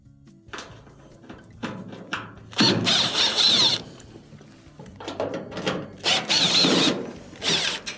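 A power screwdriver backs out the Phillips screws holding the top panel on an LG dryer. It comes as several short, close whirring bursts with quiet handling between them.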